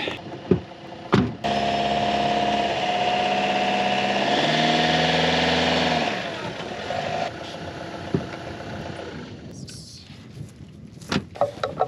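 The engine of a 4x4 van hums and strains as it drives back over rough mountain-pass ground in Georgia, with a steady, loud drone that fades into rattles and creaks.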